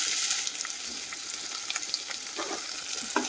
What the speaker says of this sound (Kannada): ಕೆಂಪಗಾಗೋವರೆಗೂ ನೀಟಾಗಿ ಹುರ್ಕೋಬೇಕು